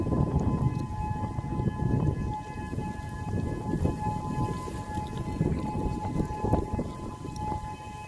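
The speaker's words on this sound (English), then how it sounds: "Sirens just came on while we're on top of Diamond Head." Tsunami warning sirens wail on Diamond Head, Hawaii, a steady tone carrying over heavy wind rush and rumble that buffets close to the microphone.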